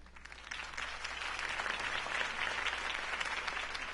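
Crowd applause at a political campaign rally for Harvey Dent in Batman The Telltale Series, a dense, steady roar of many hands clapping at a distance, holding even and fairly soft throughout.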